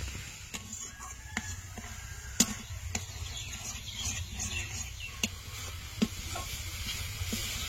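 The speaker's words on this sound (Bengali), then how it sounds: "নেড়ে ছেড়ে বেশ একটু শক্ত করে নেব পুরটা।" Coconut and jaggery filling stirred in a hot pan for malai patishapta: a soft continuous sizzle with sharp spatula scrapes and taps at irregular intervals, close but fairly quiet, with no talk.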